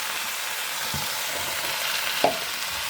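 Sajna greens being stirred in a pan after salting, a steady soft hiss of cooking with a few muted scrapes and one sharper clink near the end, no voices.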